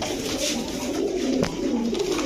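A blue-eyed pigeon, one of a breeding pair, gives a steady low cooing close by, the soft rolling calls running continuously with no talk.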